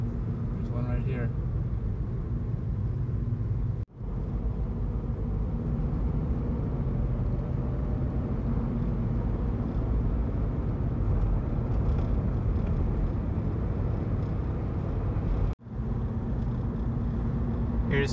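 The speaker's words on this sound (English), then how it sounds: "The road is just full of cars, full of vehicles everywhere" Weekday rush hour traffic on Capital Blvd in Raleigh heard from inside a moving car, a constant low road rumble that holds steady throughout, broken by two brief dropouts.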